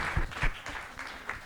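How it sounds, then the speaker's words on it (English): Brief burst of audience clapping at a music-business talk event, scattered and moderately loud over roughly a second and a half. "clap it up for the bro"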